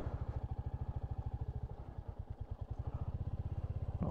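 A Royal Enfield Hunter 350 motorcycle rolls slowly across gravel, its single-cylinder engine thumping in a steady, even low pulse close to the listener.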